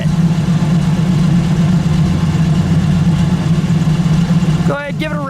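A 1965 Buick Riviera with its 401 V8 idles smoothly and quietly close by, a steady low hum with no revving, and a voice speaks briefly near the end.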